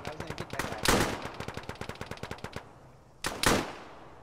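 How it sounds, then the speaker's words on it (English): Rapid automatic gunfire in the military video game Arma rattles out in a long steady burst, then stops briefly before a couple more loud shots ring out, with bullets ricocheting. "My bullets are just ricocheting."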